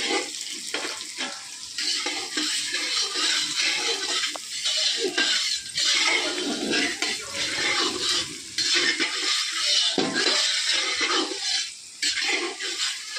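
Carrots browning in a pan alongside capsicum and beans, giving a steady, loud hissing sizzle with crackling texture that runs continuously throughout, no voices.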